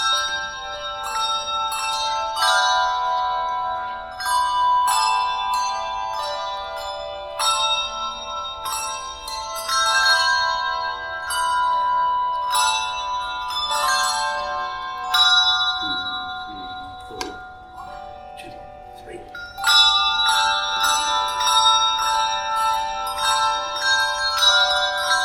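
Church tower bells at Burnham peal continuously in overlapping rounds, loud and resonant with bright ringing overtones, the changes running steadily through the whole stretch without pause.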